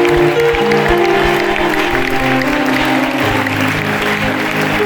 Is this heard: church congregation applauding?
yes